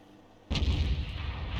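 A tank cannon shot in a World of Tanks style battle game slams into an enemy heavy-armoured vehicle: one sudden loud boom after a quiet moment, followed by a dense rumbling tail that lingers to the end, with no talk.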